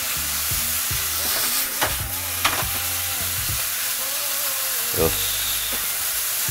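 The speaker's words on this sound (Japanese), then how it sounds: "赤身が、赤いところがなくなってくるぐらいまで 炒めます。" Pork stir-frying in a pan for yakisoba, a constant loud sizzle with spatula scrapes and clacks against the pan, while a voice speaks briefly.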